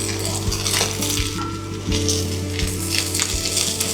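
Gai lan and cured pork stir-fry in a hot wok, with a steady close sizzle, a low burner hum and regular metallic scrapes and knocks from the spatula.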